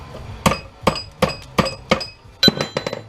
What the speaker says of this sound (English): some of these you might have to hit with a hammer